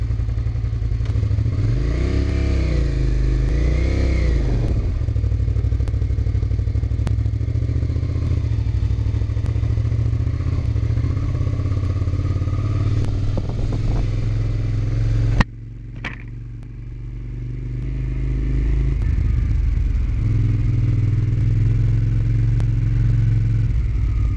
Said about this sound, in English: The bike actually feels kind of high. We'll see how it rides.